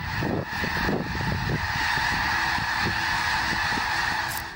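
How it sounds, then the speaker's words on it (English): A dense colony of geese or similar waterfowl honking loudly and continuously, a thick chorus of overlapping calls close by, with a roar of wingbeats and commotion as the flock takes off. "Look at how beautifully this colony of birds is organized."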